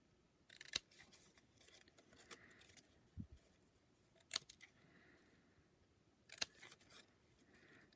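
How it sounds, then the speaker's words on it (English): Scissors snipping the ends off a paper snowflake cut from Stampin' Up! designer paper, a few sharp, crisp cuts spaced several seconds apart with quiet rustling between, close and alone. "So we're just going to cut all these ends off."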